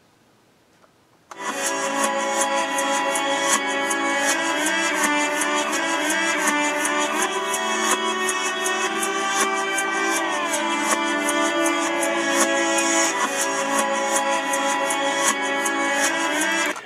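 A song played in reverse in GarageBand, dense musical tones with smeared, swelling notes that start after a short near-silence and run loud and continuous to the end.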